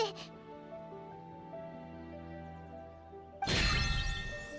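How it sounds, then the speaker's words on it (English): A bell rings out in Genshin Impact, a sustained resonant chime with long ringing overtones that fades slowly, followed by a sudden bright burst of noise. "Why is the bell ringing all of a sudden?"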